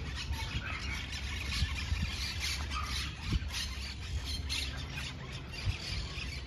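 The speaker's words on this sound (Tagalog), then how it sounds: "Oh, parrot." Many birds, a parrot among them, squawk and squeal in short irregular calls over a busy outdoor background, some close and some farther off.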